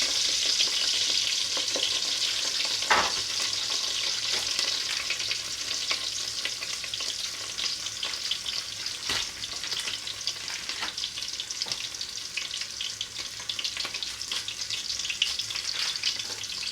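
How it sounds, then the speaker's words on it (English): Steady, continuous sizzling of onions frying in a pan, close by, with occasional clinks and stirring scrapes breaking through the hiss. "After frying our onions for some minutes"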